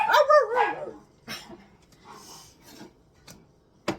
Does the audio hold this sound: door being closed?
no